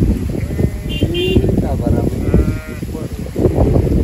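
Goats in a shepherd's herd bleat several times nearby amid steady crowd noise and people talking, with a passing vehicle in the background.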